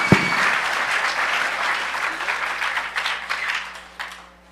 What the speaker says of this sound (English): Give him a huge round of applause right now